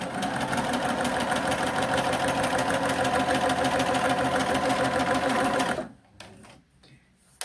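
Sewing machine stitching a seam on quilt fabric pieces for flying geese blocks, a steady fast mechanical whir running loud and continuous for about six seconds, then stopping abruptly, leaving only faint handling noises.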